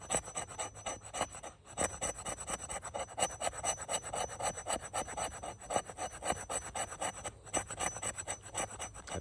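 The spine of a Condor bush knife scrapes along wood in quick, repeated rasping strokes, a steady rhythmic scratching heard close up and fairly quiet, with no talking.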